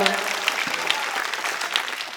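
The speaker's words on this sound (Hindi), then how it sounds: "बजाओ ताली।" An audience at a Hindi comic poetry recital (kavi sammelan) claps in a dense, sustained burst of applause, near and loud, with voices faintly mixed in.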